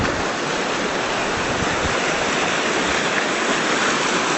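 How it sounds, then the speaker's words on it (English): Creek water rushing steadily, split into two streams beside willows and wildflowers, a dense continuous broadband wash that stays close and loud without pause. "You can see the creek is divided over there."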